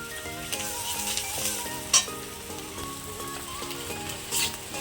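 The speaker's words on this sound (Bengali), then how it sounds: "আদা রসুন বাটাটা দিয়ে আরেকটু ভেজে নেব।" Ginger-garlic paste sizzles steadily in hot oil with fried onions and green chilies, stirred now and then with a soft scrape. The frying is fairly quiet and close, over faint background music.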